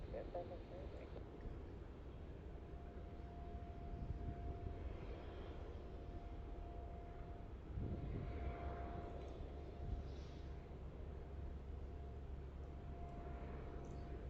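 A Boeing 737-700 airliner touches down at Melbourne Airport, its engines a steady broad roar with a low rumble throughout, swelling briefly midway as it rolls out on the runway.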